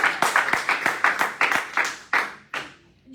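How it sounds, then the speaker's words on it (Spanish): A church congregation claps together in a brisk, steady rhythm, about a dozen sharp group claps that thin out and fade toward the end, with no one talking. "Aplaude si tienes que aplaudir."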